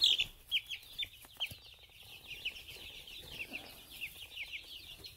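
Chickens in a coop housing about 75 birds cluck steadily, with repeated close clucks and soft murmurs throughout, with no talk.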